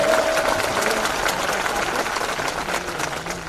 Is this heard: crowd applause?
yes